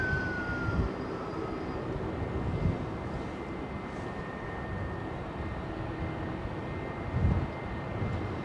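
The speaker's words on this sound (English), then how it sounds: "The sound of a Dash 8." A Dash 8 turboprop airliner passes at London Heathrow, a steady droning engine roar with a faint whining tone, moderately distant and holding at an even level for several seconds without talk.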